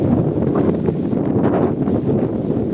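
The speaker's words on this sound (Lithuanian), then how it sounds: "Nes ir vėjas pučia prieš mane" Strong wind roars against the microphone on Helgafell mountain in harsh weather, a continuous loud buffeting rumble with constant gusting and no speech.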